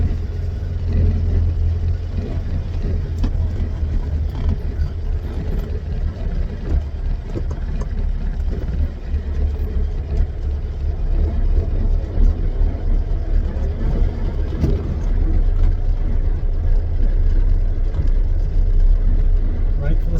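A 1958 VW Beetle with a worn exhaust runs steadily while driving, its engine giving a constant low rumble throughout, with occasional talk over it.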